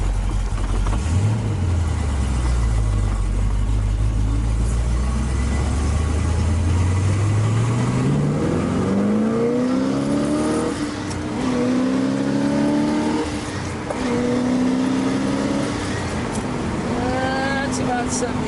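A 1968 Chevrolet Corvette 427 engine, numbers matching, accelerating hard through several gear shifts, loud and close, its pitch sweeping upward with each gear and then settling into a strong steady pull.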